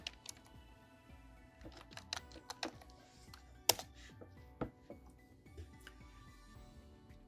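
Fingers type on a computer keyboard in a quiet room, a soft, irregular run of close clicks and taps with a few sharper keystrokes standing out.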